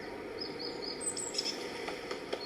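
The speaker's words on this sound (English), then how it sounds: "You have pretty loud birds here." Birds in a virtual-world beach event chirp in short, high, repeated tweets against a constant ambient background, fairly clear and close, with no one talking.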